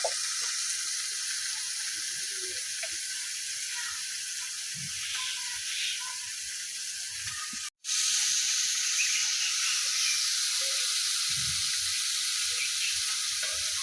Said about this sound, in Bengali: ভাজা করবো ছোট মাছ।